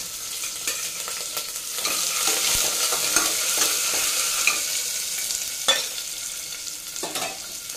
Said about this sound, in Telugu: ఆనియన్ అండి కట్ చేసి పెట్టుకున్నాను,